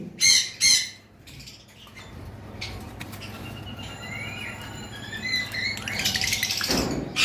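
High-mutation lovebirds kept for sale chirp and squawk in a scattered series of sharp, bright calls, with some thin, high tonal tweets in the middle and a burst of noisy chatter near the end.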